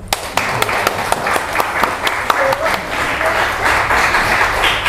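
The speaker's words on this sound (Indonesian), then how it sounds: "Tepuk tangan dong." Audience applause fills a school event hall, many hands clapping steadily and densely throughout with a few sharper nearby claps standing out above the crowd.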